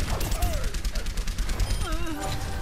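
Rapid gunfire from Rialto's gun in Overwatch crackles in a steady stream of close shots, with a voice talking over the shooting.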